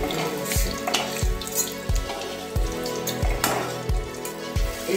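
Pakora-style chilli chicken pieces fry in hot oil in a pan, a continuous sizzling hiss punctuated by regular low thumps roughly every half second, close and moderately loud.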